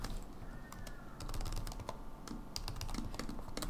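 Close, rapid clicking of a computer keyboard as code for a p5.js sketch is typed, a dense burst of keystrokes heard alone without speech.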